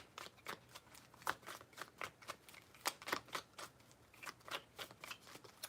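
Tarot cards are shuffled by hand in quiet, close bursts of crisp riffling snaps, repeating irregularly and softly with no voice present.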